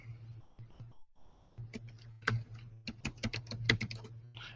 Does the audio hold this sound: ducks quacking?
no